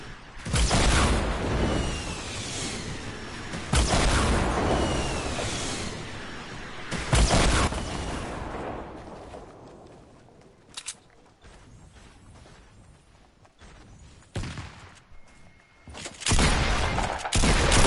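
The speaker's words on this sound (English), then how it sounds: "Who's throwing grenades?" Grenade blasts and bursts of gunfire from a Fortnite match, loud booming explosions repeating every few seconds with rattling shots and footsteps between them, fading quieter in the middle before more blasts near the end.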